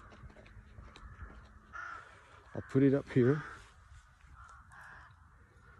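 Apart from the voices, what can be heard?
crows cawing on the beach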